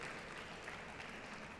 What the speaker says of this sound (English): So I would like to give an applause to my team and also appreciation for everything that we've done today.